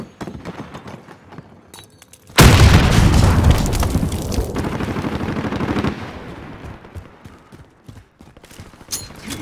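A frag grenade detonates with a sudden heavy boom in Call of Duty Warzone, followed by several seconds of rumbling gunfire and debris before fading to scattered distant shots.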